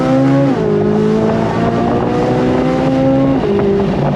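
A C8 Corvette Z06 with a Tremec 8-speed dual-clutch transmission pulls hard in second gear, its engine note loud and close, climbing steadily with a quick shift-like drop near the start and another near the end.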